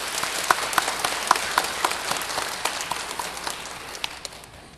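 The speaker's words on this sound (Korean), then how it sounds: "우리 격려의 박수 한번 보내겠습니다." A church congregation applauds its choir at a Sunday service, moderate clapping with a few sharper individual claps near the start, tapering off toward the end.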